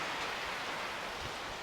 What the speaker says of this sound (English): right now it's raining super heavily